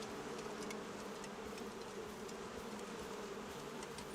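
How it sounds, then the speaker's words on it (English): A swarm of bees buzzes in the video game Crimson Desert, a dense, steady drone holding at a fairly faint level without any talk. "But yeah, you have bees right here."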